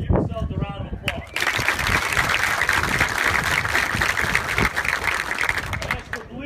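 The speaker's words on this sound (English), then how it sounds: "Give yourselves a round of applause." After a speaker's short line, a group bursts into a round of applause, dense clapping from many hands building and holding steady nearby before fading as talk resumes.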